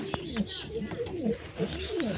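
Several pigeons coo softly and repeatedly close by, their rolling calls overlapping, with a few brief taps and rustles in between.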